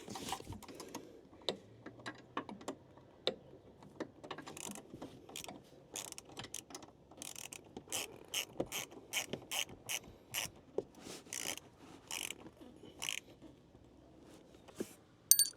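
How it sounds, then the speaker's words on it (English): Wrench tightening a bolt on a John Deere draper head while fitting a gap seal kit, a quiet run of quick ratcheting clicks that grows denser toward the end, with no talking. "he can get to it with his wrench, and I'm going to go ahead and let him tighten it up"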